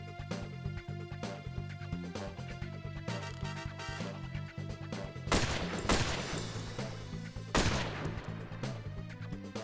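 Gunfire in the N64 game 007: The World Is Not Enough, with repeated sharp shots and bursts over steady game music, loudest in two heavy clusters midway and near the end.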